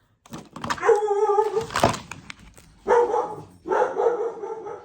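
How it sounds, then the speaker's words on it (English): A pet dog barks close by and loudly, with a sustained bark-howl followed by two more drawn-out barks separated by short pauses, heard alone in an indoor room. "just let him bark for a second"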